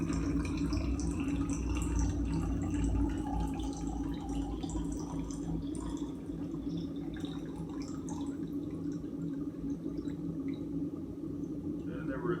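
Water pours and trickles steadily into a container on a digital scale while mixing HC-110 film developer, a continuous liquid splash with a low hum beneath.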